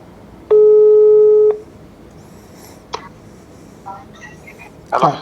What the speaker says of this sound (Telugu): మీకు ఒక చిన్న డెమో కాల్ అయితే చేసి చూపిస్తాను